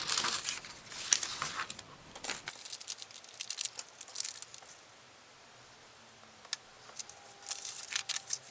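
A gum wrapper crinkles and crumples in bursts, with crisp papery rustles loudest in the first couple of seconds, then sparser crackles and small taps at close range. No voices.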